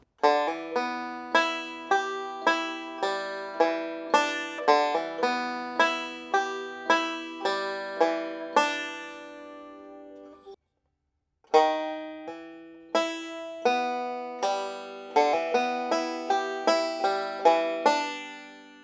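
Bluegrass banjo plays a looping forward-roll measure, bright plucked notes in a quick repeating rhythm, stopping briefly for a gap before the same pattern starts again, close and clear.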